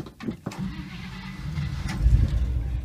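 A 1955 Chevy Bel Air convertible, concours restored and little used since, cranking and catching with a rough, uneven rumble that swells near the end.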